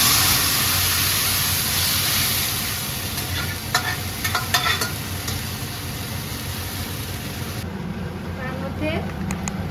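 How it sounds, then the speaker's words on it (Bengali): Boiled, chopped bottle gourd tipped into a pan for Bengali lau shukto with bay leaf and grated ginger, giving a steady sizzle and scraping stirs with a few clinks, close and fairly loud, dropping away near the end. "তারপরে লাউগুলো কুচিয়ে সেদ্ধ করা আছে ওইগুলো ঢেলে দেবো।"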